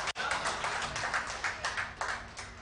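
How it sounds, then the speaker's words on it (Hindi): An audience applauds to welcome a poet at a recitation, a fairly faint, steady patter of many hands with loose rhythmic peaks, heard at a distance without any speech. "थोड़ी बहुत तालियां बजाकर आप भी मेरा स्वागत कर दीजिए"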